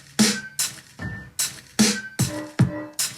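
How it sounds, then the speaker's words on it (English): Sampled drum hits played back on an Akai Force, a series of about eight sharp, punchy strikes in a loose beat, some with short tonal ring, loud and dry with no talking. "So the drums sound like this."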